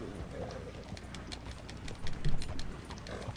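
A horse's hooves clip-clop in the video game Red Dead Online, a quiet irregular run of hoof strikes that swells briefly toward the end.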